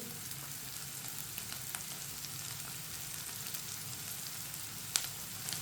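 Lauki and eggs frying in a pan, a steady soft sizzle hissing throughout, with one brief clink near the end, close and without talk.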